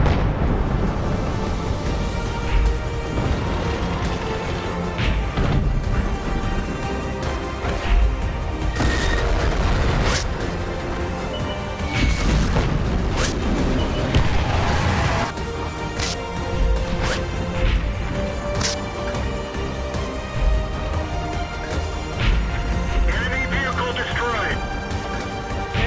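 Continuous heavy tank cannon fire and explosions in a tank battle video game, with repeated loud booms and crashes over a dense, constant roar of battle for the whole stretch.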